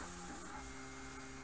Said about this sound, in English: you can probably hear the 3D printer running in the background